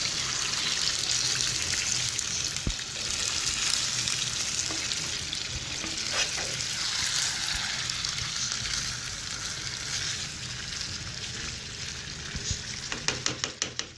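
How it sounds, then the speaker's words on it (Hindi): Chicken Afghani gravy frying and being stirred in a pan, a steady close sizzle with scraping spoon strokes throughout and a few sharp clicks near the end. "ये सारी ग्रेवी हम इसके अंदर ऐड कर देंगे। अब इसे अच्छे से हम मिक्स कर लेंगे।"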